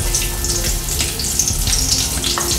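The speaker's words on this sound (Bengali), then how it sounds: "তেলটা গরম হয়ে আসলে এর ভিতরে আমি পেঁয়াজ কুচি দিয়ে দিচ্ছি।" Chopped onion hitting hot oil in a wok gives a steady, close hiss and crackle that runs without a break for the whole stretch, with no voices.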